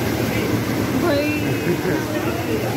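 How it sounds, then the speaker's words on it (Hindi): A dangerous, roaring waterfall gives off a continuous broadband rush of falling water close by, while people talk over it. "झरना है खतरनाक झरना"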